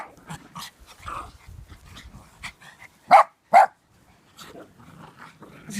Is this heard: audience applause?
no